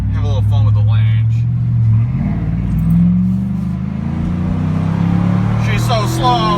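A Mazda Miata revs and accelerates hard during a launch, the engine note climbing loud and close from inside the car while a voice talks briefly over it.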